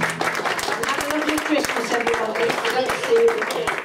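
An audience at a Christmas gig by a band claps steadily in a dense patter of hand strikes, with a voice talking over the applause.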